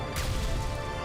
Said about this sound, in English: I throw a bomb, just in case. Another bomb.